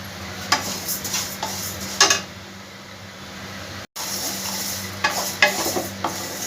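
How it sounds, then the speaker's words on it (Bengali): Moong dal dry-frying in a pan, stirred in steady scraping strokes with a spoon, with a soft sizzle and a hum of background noise running throughout. "মুগের ডালটা ভালো করে একটু ভেজে নেবো আগে"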